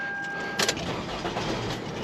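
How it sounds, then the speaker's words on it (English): A 2011 Toyota Camry with a replaced engine cranks briefly and catches, settling into a steady, close idle after a short burst of starter noise. "now this car should start"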